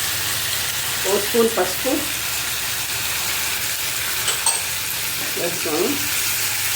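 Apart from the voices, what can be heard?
tomatoes frying with salt and turmeric in a pan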